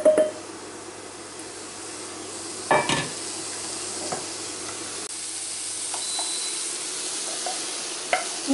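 Green peas cooking in a pan give a soft, steady hiss and sizzle, broken by a few sharp stirring clinks and scrapes of a utensil against the pan.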